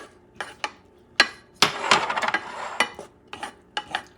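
Garlic is stirred in a pan for a Puerto Rican-inspired sweet and sour chicken, heard as irregular metallic clinks and scrapes of a utensil against the pan, close and sharp, with quiet gaps between strokes.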